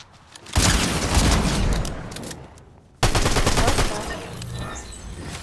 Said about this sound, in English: This shotgun's kinda OP.